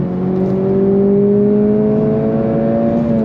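A 2025 Acura Integra Type S accelerates hard on throttle, its engine a loud, steady drone that climbs gradually in pitch through the gear with no voices over it.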